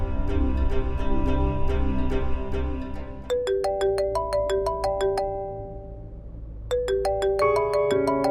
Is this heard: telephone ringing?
yes